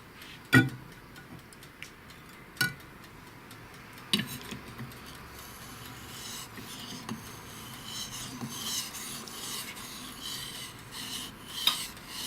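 A carbon steel Japanese santoku knife is sharpened on a whetstone, soft repeated rasping strokes with a few sharp clicks of the blade against the stone, moderately close.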